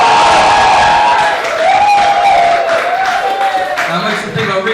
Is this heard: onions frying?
no